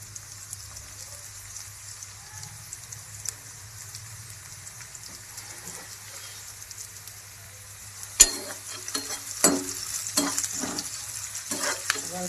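Green chillies hit hot oil with a sudden loud sizzle partway through, then crackle and spatter in bursts as they are stirred, after a quiet stretch of faint low hiss; no voices.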